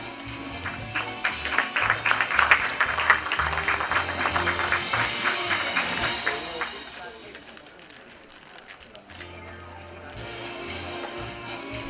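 Audience applause at an IT awards ceremony, a dense crowd clapping that swells loud for several seconds, then fades and thins out before a lighter patter returns near the end.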